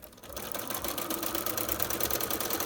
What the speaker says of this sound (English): So let me just sew another one for you.